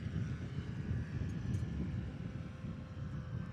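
A STOL aircraft comes in to land at a mountain short-takeoff-and-landing competition, its engine a steady low drone with some wind rumble, heard from a moderate distance.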